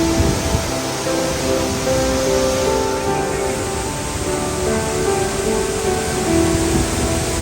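Gljúfrabúi waterfall in Iceland pours in a steady, dense roar, a constant broadband rush of falling water heard close and loud throughout, with no voices.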